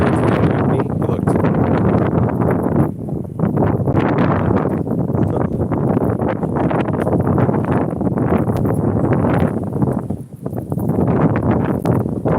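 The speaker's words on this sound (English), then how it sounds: "14-mile-an-hour wind gust." Gusty outdoor wind on a morning walk roars steadily into the microphone as loud, broadband buffeting, with brief dips between gusts and no clear voices.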